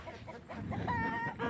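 Several chickens clucking on a rural roadside in Tublay, Benguet Province, a flock's soft overlapping clucks and murmurs at moderate distance over a short stretch, no talk.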